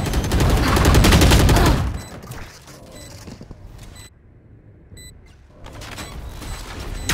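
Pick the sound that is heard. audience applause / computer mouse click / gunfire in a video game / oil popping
gunfire in a video game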